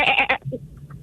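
A person imitates a goat's bleat: a short nasal wavering cry, loud and close, then a brief quiet murmur.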